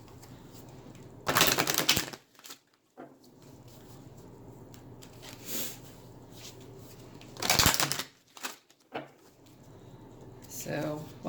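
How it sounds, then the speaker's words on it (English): Tarot and oracle cards being shuffled by hand in two loud riffling bursts several seconds apart, with softer rustling and handling sounds between them, close and clear. "So while I'm finishing shuffling those"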